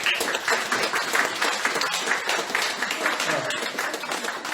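Audience applause at a poetry reading during a memorial birthday celebration, a burst of irregular clapping that continues for several seconds, with a voice murmuring underneath.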